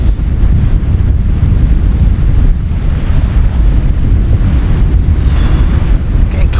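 A cold easterly wind buffets the microphone on a beach at sunset during low-water fishing at Blackpool, with a loud, continuous low rumble and surf in the background.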